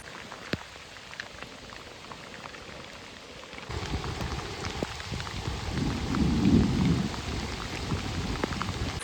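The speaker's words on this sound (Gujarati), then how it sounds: "વરસાદ પાછો ચાલુ થઈ ગયો છે અને વધી ગયો છે" Steady heavy monsoon rain pours down in a village, a dense hiss that swells louder partway through, with a low rumble building beneath it.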